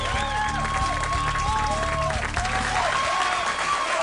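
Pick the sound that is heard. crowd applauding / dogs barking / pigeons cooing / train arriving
crowd applauding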